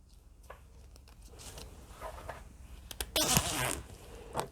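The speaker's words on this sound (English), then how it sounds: "first I'm going to open the zipper." Zipper being opened on a faux fur vest, a quiet close scratching rasp building to a louder zip near the end, with small handling rustles around it.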